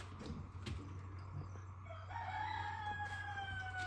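A native rooster crows once at moderate distance, a rising then sustained call over steady low background hum, with faint clucking from chickens beforehand.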